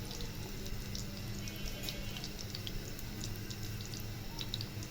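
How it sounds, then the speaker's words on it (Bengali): Cheese-stuffed potato puris sizzling in hot oil, a steady dense crackle and hiss running continuously at close range with bright spattering pops throughout, no voices. "এই যে তেলে ভেজে দিচ্ছি"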